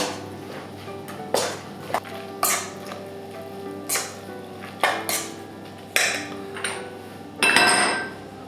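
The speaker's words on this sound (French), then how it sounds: "on mélange tout simplement notre choucroute avec nos lardons, les œufs" Sauerkraut, bacon lardons, eggs and cream are stirred together in a bowl. A utensil clinks and scrapes against the bowl in separate knocks, close and clear. Each stroke ends in a wet squelch, and there is no talk.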